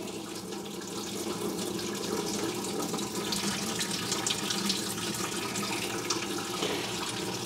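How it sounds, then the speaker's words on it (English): Water drains from a Chevrolet C10 pickup's radiator, a steady stream gushing and splashing nearby, continuous and even, with no voices. "when you pull that bottom hose, it's going to drain the water out of the engine block too"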